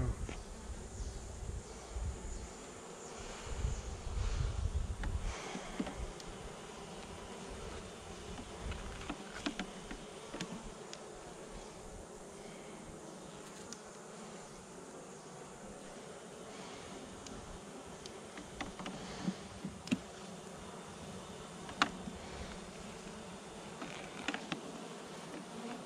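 Bees buzzing in and around a backyard beehive during an inspection, a continuous close insect drone with occasional clicks and handling knocks, and a brief low rumble near the start, with no speech.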